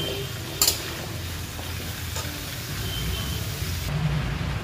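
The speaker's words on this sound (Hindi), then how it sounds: "इसे हम तेज गैस में कम से कम 2 से 3 मिनट तक अच्छे से भून लेंगे।" Grated carrots stir-fry in ghee over a high flame, giving a continuous soft sizzle with a few sharp scraping clicks of stirring, close by and without voices.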